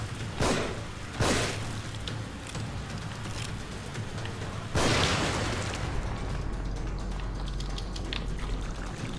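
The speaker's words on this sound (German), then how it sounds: "Wer wirft denn hier mit Dynamite?" Several sharp booming dynamite blasts in the video game The Evil Within, two early close together and a bigger one midway, followed by rumbling debris and a lingering low hum.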